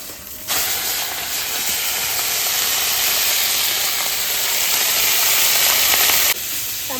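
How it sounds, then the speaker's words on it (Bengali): Chela river fish frying in a pan, a loud continuous hissing sizzle that swells suddenly, holds steady for several seconds, then drops back to quieter crackle. "আমার চেলা মাছ ভাজা হয়ে গেছে"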